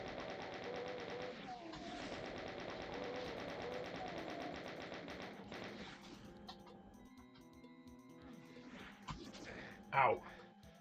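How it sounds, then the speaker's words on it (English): A chain gun fires in the video game Doom TNT as a fast run of rapid shots, with other game sounds mixed in and a sharp burst near the end. "I'll just shoot that guy. We'll use some chain gun ammo."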